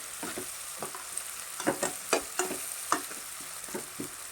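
Onions being sautéed in a pan: a continuous quiet sizzle with rhythmic scraping strokes of a spoon stirring about twice a second, close and fairly soft, with no talking.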